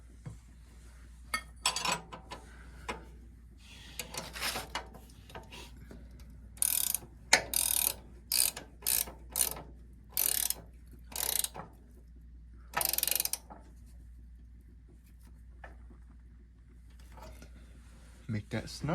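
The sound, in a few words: wrenches tightening bolts on Cub Cadet 3-point lift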